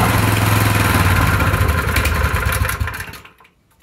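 The small petrol engine of a plate compactor (wacker plate) runs loudly and close after a pull start, a steady rough chugging drone that holds for about three seconds before cutting out and fading to quiet.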